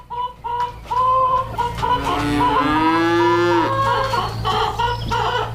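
A Guernsey cow moos loudly nearby in a long, drawn-out call, with shorter animal calls and chicken clucking around it, on a farm among sheep, chickens and pigs.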